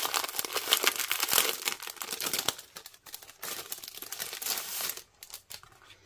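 Crinkling and tearing as a pack of 15 by 15 cm scrapbooking paper sheets is unwrapped, close plastic rustles and crackles in bursts with a short pause near the end.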